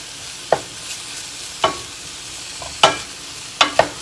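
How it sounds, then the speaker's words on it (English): Bite-sized andouille sausage slices frying in a pan, with soft background sizzle broken by several sharp spatula scrapes and stirs spaced irregularly, close and clear. "Got 1 pound of andouille sausage, just in some nice little bite-sized slices. Now we're just going to cook this up for about 10 minutes."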